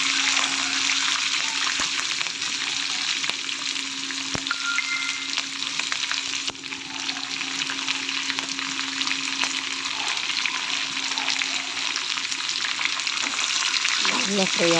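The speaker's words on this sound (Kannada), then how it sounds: "ಎಲ್ಲ ಫ್ರೈ ಆಗುತ್ತದೆ ಚೆನ್ನಾಗಿ ಎಣ್ಣೆಯಲ್ಲಿ." Onion, green chili and peanuts fry in hot oil for lemon rice with a loud, dense, continuous sizzle, plus a few faint stirring taps and no talk.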